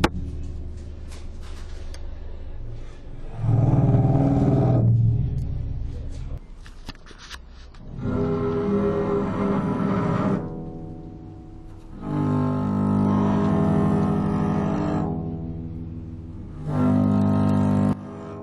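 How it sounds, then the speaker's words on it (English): Double bass with strings tuned down, bowed into low, rumbling, animal-like growls in several long swelling bursts separated by short pauses, loud and close. "By tuning down the strings, I was able to create a low, rumbling,"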